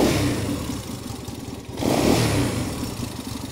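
A Honda CB160 motorcycle engine runs close by with a rough, throbbing, mid-pitched idle, dips briefly, then revs up once before settling back down.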